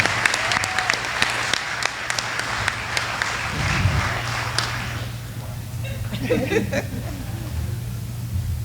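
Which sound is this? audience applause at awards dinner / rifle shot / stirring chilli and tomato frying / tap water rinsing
audience applause at awards dinner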